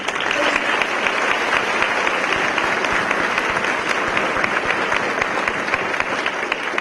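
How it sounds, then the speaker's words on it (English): A steady round of applause from an audience at a college honors convocation for departmental award winners, dense even clapping continuing throughout without pause. "we would like to also give one more round of applause to all of our departmental award winners"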